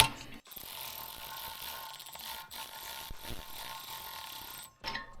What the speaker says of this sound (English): I like to use an electric ratchet, not an impact, just the ratchet.